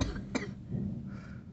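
A single sharp cough bursts out near the mic, a short isolated hack over low background room noise with no talking around it.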